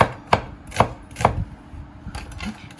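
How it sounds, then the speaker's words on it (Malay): A knife chops shallots on a board in three sharp, evenly spaced strikes, followed by a softer flurry of quick cuts, close and clear without any talking. "sekarang kita nak potong pula bahan-bahan yang ditumis. Bawang merah."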